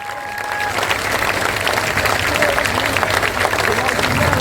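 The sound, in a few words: applause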